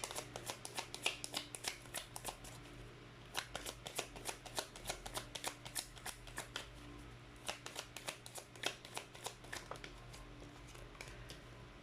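A deck of tarot cards is shuffled close by in a quiet room, a long run of crisp riffling flutters and soft card slaps in irregular bursts with short pauses between them.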